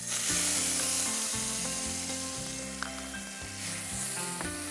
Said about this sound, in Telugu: ఆయిల్ వేడైంది, కొంచెం టమాటా ముక్కలు వేడి చేస్తాం.